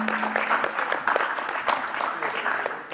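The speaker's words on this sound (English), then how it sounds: "Let's give Gary a warmer round of applause to appreciate his valuable time and expertise." Conference audience at a walnut industry event giving a round of applause, dense steady clapping filling the room at moderate volume with no break.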